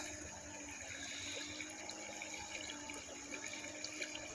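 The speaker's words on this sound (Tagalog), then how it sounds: "Ayan, itong ilog na to." A flood-swollen river near a barangay highway rushes steadily, a dense continuous wash of flowing water heard close and loud throughout, with no talk.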